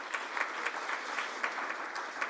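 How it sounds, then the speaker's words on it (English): Steady applause from a room of Rotary Club members honouring a woman at a luncheon, even and continuous clapping with no voices over it. "So let's give her a round of applause."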